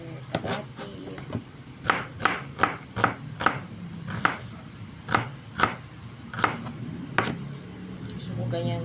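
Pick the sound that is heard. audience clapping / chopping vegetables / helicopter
chopping vegetables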